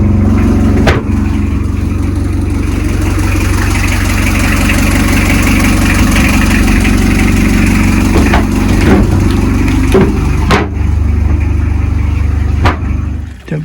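A narrowboat's engine idles steadily and loud throughout, a low diesel rumble with a few sharp knocks and clatters standing out over the drone.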